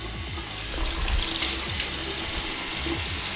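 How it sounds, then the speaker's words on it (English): Water pours and splashes onto a surface to be cleaned with a stainless steel squeegee, a steady, loud, close hiss and splatter lasting throughout. "So first thing I'm going to do is add some water on here first."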